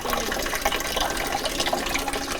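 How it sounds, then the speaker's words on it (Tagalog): Water running thinly from a village tap in a barangay, a steady, faint watery hiss and trickle with no talk. "Halos wala at gapatak pa rin ang tubig na tumutulo sa mga gripo ng barangay."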